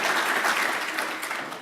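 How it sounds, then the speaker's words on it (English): A conference audience applauds a speaker at a learning technologies session, with steady dense clapping that fades toward the end. "round of applause for our speaker"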